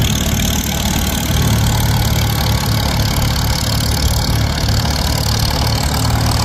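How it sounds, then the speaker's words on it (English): Vintage Ford and Cub farm tractors run at a plow day demonstration, giving a steady low engine rumble that holds evenly throughout with no talk over it. "There we go, we got the Ford, and we're going to get Washburn coming up with the cub."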